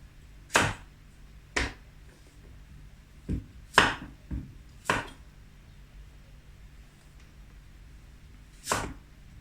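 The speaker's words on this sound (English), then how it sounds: "I'm just going to slice it into rounds" Knife slicing vegetables into rounds on a board while making a lamb potjie, about seven crisp, separate chops spaced irregularly, close and clear with no talking.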